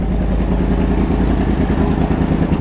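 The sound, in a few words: motorcycle engine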